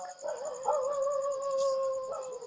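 A nearby dog lets out a loud, drawn-out whining howl that holds one steady pitch for about two seconds before breaking off.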